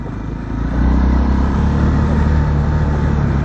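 A Honda XR 300 Tornado motorcycle engine swells as the throttle opens, its close, steady mid-pitched drone rising in loudness after half a second and holding strong.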